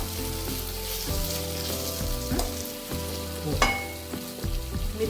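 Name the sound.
sautéing sabudana mixture in a pan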